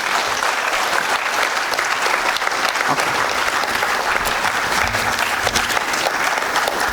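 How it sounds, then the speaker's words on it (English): At a student conference inaugural session, a large hall audience claps in a loud, continuous round of applause, with some crisper individual claps standing out near the end. "Please give him a huge round of applause."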